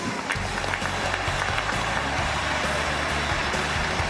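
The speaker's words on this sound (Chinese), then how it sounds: "让我们掌声请出我们的本环节展示嘉宾" Studio audience at a television talent show applauding a chef's guest appearance, dense steady clapping from a crowd filling the whole stretch without pause.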